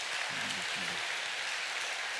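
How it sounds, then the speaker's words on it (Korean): Applause of thanks from a church new-members class, a steady soft wash of clapping from a small group, fairly quiet and even for its whole short length. "우리 귀한 나눔에 우리 감사의 박수 하도록 하겠습니다"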